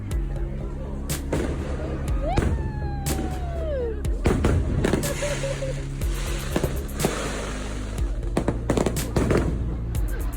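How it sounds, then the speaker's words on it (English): A Disneyland fireworks show bursts all around in a rapid series of sharp booms and crackles, with a few whistling rockets rising between the loud, irregular blasts. "fireworks surrounding you."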